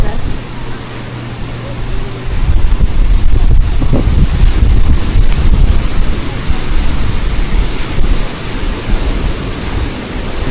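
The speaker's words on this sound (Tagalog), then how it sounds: "Kita niyo yung lalakas ng alon" Strong surf on a Boracay beachfront during habagat monsoon season, a loud continuous roar of crashing waves heavily buffeted by wind on the microphone, with faint voices beneath.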